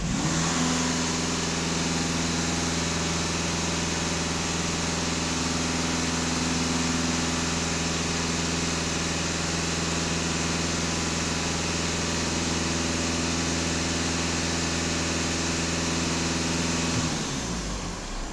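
A warmed-up Passat B8 / Golf 7 engine just after DPF regeneration runs at a steady, close idle with a low, even drone and some revving, continuing unbroken before cutting off near the end, with no voices.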